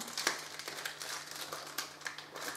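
Plastic crinkles and rustles in irregular bursts, close by, as a packaged item is pulled free from its bag.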